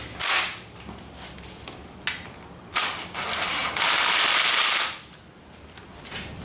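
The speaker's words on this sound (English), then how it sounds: "Put your screw in, and you can tighten it up." A ratchet tightens a screw on the clutch cable of a Yamaha Banshee ATV, with several close, loud bursts of fast ratcheting clicks separated by short pauses.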